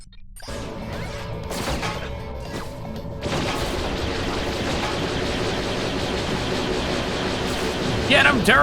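Automated turrets firing in Ratchet: Deadlocked, giving a dense, continuous barrage of sharp impacts and blasts that thickens and grows louder partway through, mixed with game noise.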